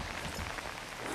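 Steady rain pattering on surfaces at Lake Comedero, a dense, even hiss of drops close by with no voices.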